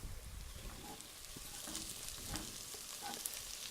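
Onions with a pinch of salt and a quarter teaspoon of sugar are stirred in a hot pot for French onion soup, giving a steady soft sizzle with faint scraping stir strokes, alone and close.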